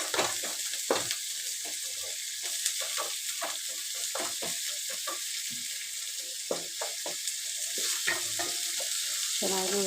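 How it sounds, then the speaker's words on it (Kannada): Green chillies fry in hot oil with a steady, close sizzle, broken by frequent scraping and clattering stirring strokes throughout. "ಆಮೇಲೆ ಒಂಚೂರು ಮೆಣಸಿನ್ಕಾಯಿ ಹಾಕ್ತಾಯಿದ್ದೀನಿ ಆಯಿಲಲ್ಲಿ."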